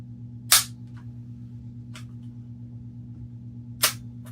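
Two sharp metallic clacks a few seconds apart as the bolt of a Stevens 334 bolt-action rifle is lifted and cycled, cocking it, close up over a steady low hum.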